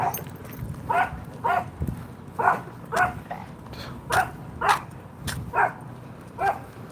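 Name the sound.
dog barking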